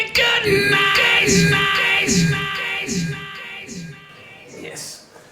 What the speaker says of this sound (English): So this is the sound of distortion.